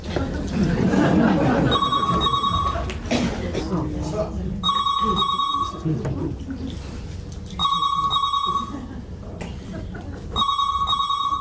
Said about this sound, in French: ça c'est la sonnerie de quelqu'un qui se trompe, écoutez bien